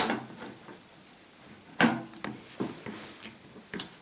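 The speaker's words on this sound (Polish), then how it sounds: "tu przykręcamy śrubki przytrzymując aparat tak żeby nam nie uciekł aparat" Small screws are turned by hand while a DSLR camera is fastened to a telescope, giving quiet mechanical clicks and scrapes with a few sharper taps, close by with no talking.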